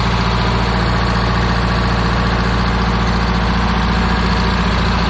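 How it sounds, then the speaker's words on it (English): A heavy engine runs steadily up close, belt-driving blower fans on top to keep it cool, with a constant low mechanical drone and whirring, no pauses or talking. "Running the blower fans up on top, keeping the engine cool."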